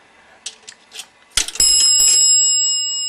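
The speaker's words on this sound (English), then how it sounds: "That's the sound of money dropping." A few small clicks and rattles as a dime drops through a toy payphone mechanism, followed by a sustained bright metallic bell tone that rings out and slowly fades.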